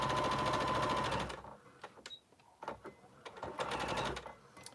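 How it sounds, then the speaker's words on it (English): Rapid mechanical stitching of a sewing machine running a locking stitch through fabric for a sling bag seam, a dense buzzing burst at first, then short stop-start runs of stitches with pauses between. "I'm doing another locking stitch when I reposition my fabric to start the end of this last seam"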